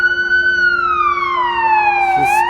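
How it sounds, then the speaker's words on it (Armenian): A fire engine siren wails close and loud as it arrives at a burning car in a city centre, one long tone sliding slowly downward then turning back up, with traffic noise beneath. "հրշեջները եկան"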